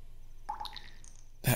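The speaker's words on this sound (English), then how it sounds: "That water drop." Eye drops fall in the Zelda: Ocarina of Time video game, giving a single soft drip followed by a brief bright, ringing trail, then a sharper burst right at the end.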